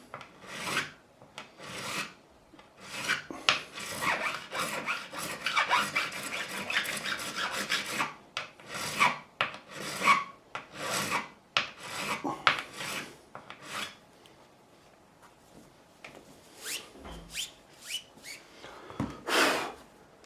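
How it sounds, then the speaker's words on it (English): A metal file rasps across guitar frets on an ESP Edwards Explorer, crowning them in repeated short strokes, each a bright scraping burst, with brief pauses between passes and no talking. "This one probably needs more material, so I'm going to do this one first. And again, clean the file."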